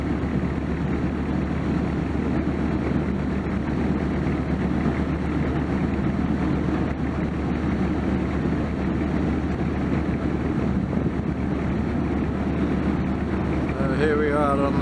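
A ferry boat engine drones in a steady, low rumble without a break, with faint wind buffeting the microphone.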